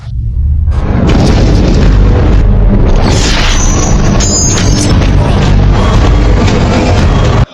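Loud, dense booming blasts and crashing bursts roll on continuously after a brief quiet start, heavy gunfire and explosions in an action scene from the film Hitman: Agent 47.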